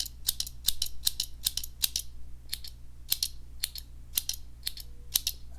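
Victorinox Explorer Swiss Army knife scissors snip repeatedly in a quiet room, a series of sharp, crisp metallic clicks at an uneven rhythm, close and clear with no voices.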